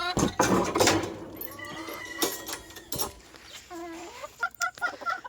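Pekin rooster clucking and calling among other farm fowl, several short bursts near the microphone with background bird noise and busy activity.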